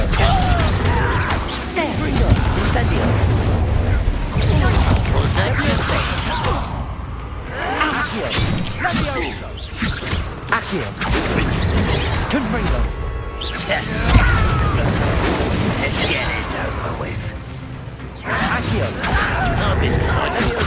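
Spell explosions from Confringo and Incendio in the Hogwarts Legacy video game, loud, dense bursts, crashes and whooshes in rapid succession, with a voice calling out spells over the chaotic combat.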